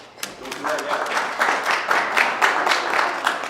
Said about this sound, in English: Big round of applause to the Chair of Tourism Valemount, Tony Bielek.